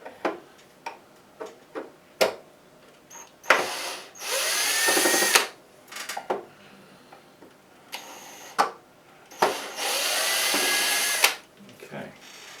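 A power screwdriver whirs in two sustained bursts while removing screws from the battery compartment of a Hitachi TRK-8240 RM boombox, amid scattered close clicks and handling knocks.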